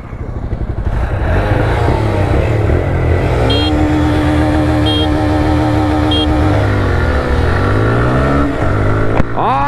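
TVS Raider 125 and Honda SP 125 motorcycles in a drag race, their engines loud and close, revving and rising through the gears together over a steady buzzing drone, with no talking.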